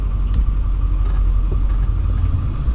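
A four-wheel drive van with a 7.3 diesel engine gives off a loud, close, low rumble that holds steady and unbroken, with no voices over it.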